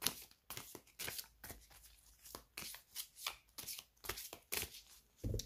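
An oracle card deck shuffled and cut by hand, a series of quick soft riffling bursts in an uneven rhythm, close and quiet, with no talk.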